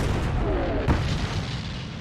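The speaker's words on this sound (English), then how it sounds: "the British and Americans are greeted with cannon fire from the Vichy French" Cannon fire during the WWII Allied landings off North Africa, a single deep boom rising out of a dense, rumbling battlefield din in archival film audio.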